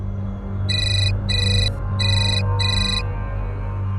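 An incoming call sets a phone ringtone chiming in four quick bright bursts, loud and close over a low steady hum, with no talking in the clip.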